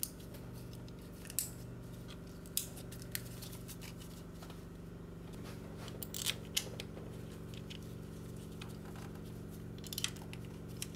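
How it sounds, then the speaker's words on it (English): Electrical connectors are snapped back into place on a Toyota Highlander engine during a valve cover gasket replacement, giving a handful of sharp, faint plastic clicks spaced apart over a quiet, steady hum. "So we're gonna reconnect our electrical connectors."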